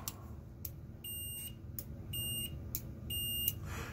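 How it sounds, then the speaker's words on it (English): A cheap multimeter's continuity beeper gives several short, clear electronic beeps in bursts over a low background hum, with no speech. "You want a continuity beeper to happen as soon as you touch it"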